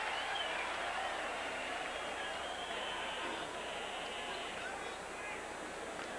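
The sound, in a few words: baseball stadium crowd cheering at Cubs vs Giants game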